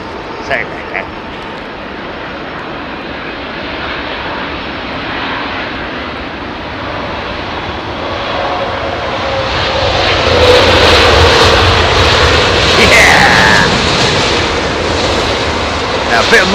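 A jet airliner lands at Heathrow on a damp runway in low visibility, its engine roar building as the thrust reversers engage, loud and sustained at fairly close range.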